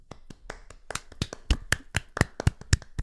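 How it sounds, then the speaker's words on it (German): Two people clap together, loud and close, with sharp uneven slaps quickening over a few seconds and no other sound around them. "spenden wir beide uns mal kurz ein bisschen Applaus"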